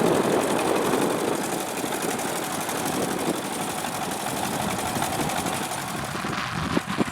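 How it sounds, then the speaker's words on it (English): Vintage tractor engines run steadily at a young farmers' working day event in Lincolnshire, a continuous chugging drone filling the air with no pauses and a couple of small knocks near the end. "Some lovely vintage tractors working, showing us what they can do still."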